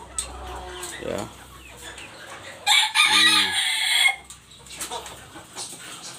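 Black Sumatra and Pelung chickens cluck and crow nearby, one loud drawn-out crow in the middle standing out over scattered clucks, with a person speaking briefly.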